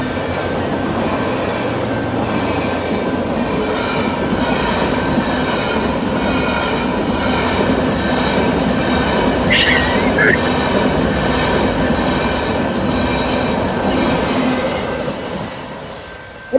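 Small trains run in a steady, close rumble of wheels and carriages, with a brief high wheel squeal about midway. Voices talk over the continuous rolling noise.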